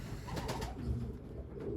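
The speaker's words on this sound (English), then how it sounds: "I have to release the young birds." Pigeons coo softly at a loft with young and old birds, a few low throaty murmuring calls fairly faint against quiet surroundings, no voices.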